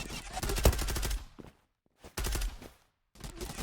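Bursts of rapid gunfire in the online shooter Zula, two loud clusters of shots separated by brief silence, followed by another burst at the end, with faint voices mixed in.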